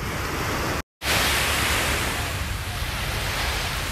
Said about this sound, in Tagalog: Ang sarap pakinggan ng aloy ng tubig sa dagat.